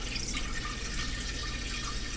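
Filtered water pouring steadily into a container for an emergency boil, a continuous splashing trickle that stays close and fairly loud throughout with no voices.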